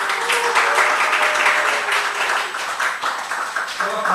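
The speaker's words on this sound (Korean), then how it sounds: "박수 한번 주세요." Church congregation applauding during a Friday night worship service, a dense, loud, continuous round of clapping from many hands with faint voices underneath.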